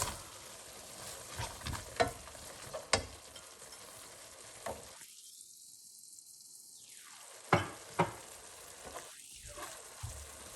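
Frozen peas go into a pan of frying baingan bartha and get stirred, giving a soft sizzle broken by scattered clinks and scrapes of the spoon, with two short stretches of near silence.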